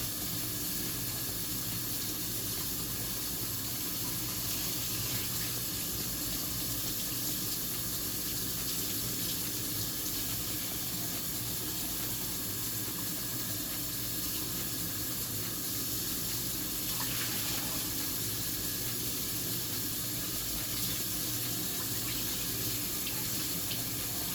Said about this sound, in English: I've got to rinse this off really quick.